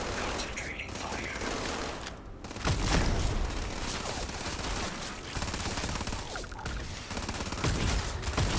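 Gunfire in the video game Starfield: dense, rapid bursts of shots and mechanical clatter, continuous and fairly loud throughout with a brief lull near two seconds.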